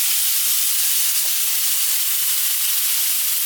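Steak searing in a hot pan, a steady, loud, continuous hiss and sizzle with no talking.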